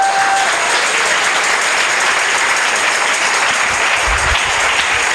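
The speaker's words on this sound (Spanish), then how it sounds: "Denle un aplauso al Señor de los cielos." A church congregation applauds steadily and loudly for the full stretch, a dense wash of many hands clapping without a break.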